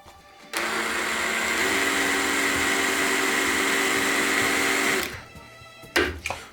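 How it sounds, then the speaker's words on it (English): A power drill whines loudly and steadily for about four seconds as it bores holes in metal kickstand parts. The whine then cuts off, leaving a few short clatters afterward. "With all of the parts finally done, I drilled the necessary holes,"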